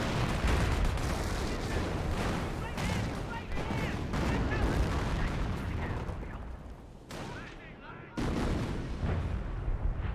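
An artillery barrage from 25-pounder guns in Company of Heroes 1 keeps up dense, loud booms and bursts, with a short lull near the end. A commentator talks over it.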